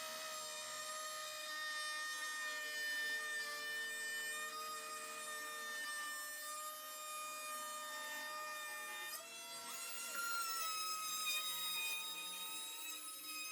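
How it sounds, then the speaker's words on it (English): A handheld router rounds the corners of wooden table legs cut from 2x4 lumber, giving a continuous high whine at a moderate distance whose pitch shifts slightly partway through as the cut changes. "I then used my handheld router just to round off all the corners on the legs"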